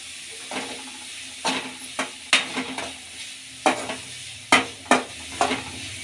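Onions and curry leaves frying in a pan, with a soft sizzle under repeated scraping stirs that come in uneven bursts, close up and without talk.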